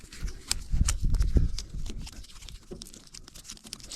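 Wrapped wiring parts being unwrapped, with close, irregular crinkling and tearing of plastic wrapping, a denser burst of rustling early on fading to lighter scattered crackles.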